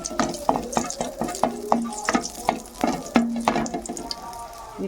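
Torn dried red chilies tempering in a little hot oil, a rhythmic series of quick spatula scrapes and taps against the pan over a faint sizzle, close by.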